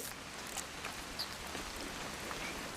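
Steady, soft rain patters in the video game What Remains of Edith Finch, an even hiss of drops with no voices.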